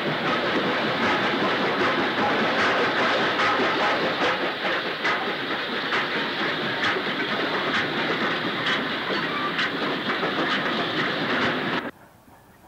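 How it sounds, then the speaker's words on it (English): A 9F class steam locomotive, number 92073, once fitted with a mechanical stoker, rolls past a station platform with loud, steady clickety-clack of wheels and rail noise, stopping abruptly near the end. "92073 comes by, bound for Shotwick Sidings."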